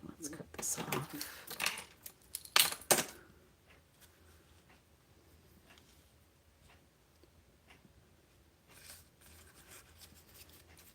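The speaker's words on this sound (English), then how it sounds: "let's cut this off" Scissors snip through a paper craft piece, a quick cluster of sharp cuts close to the mic at the start, then quiet with faint handling rustles.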